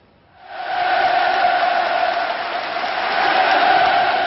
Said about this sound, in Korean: 김정은 위원장이 등장하자 관중들이 환호성을 지르며 감격합니다